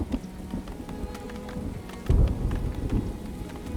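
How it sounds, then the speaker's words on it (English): Rain and thunder in the video game Farthest Frontier, steady rain hiss with a deep thunder crack rolling in partway through, loud and immediate. "lightning is ridiculously loud in this game"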